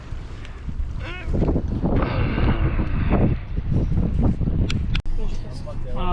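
Wind of about 10 to 15 knots buffets a sailboat at sea in the Caribbean, a continuous rushing gust over the microphone with water wash beneath and people talking over it.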